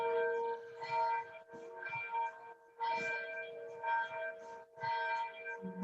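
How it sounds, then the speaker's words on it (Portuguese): A church bell tolls repeatedly at a steady rhythm, ringing from a distance with sustained metallic overtones between strikes. "Está batendo o sino da igreja? É o sino da igreja que não é daqui"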